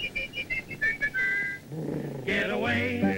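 A cartoon-style whistle aimed at a lady from a passing flivver: a run of short, bright whistled notes, then a sustained tone, followed by a louder, lower sliding sound with animal-like growls and wavering cries.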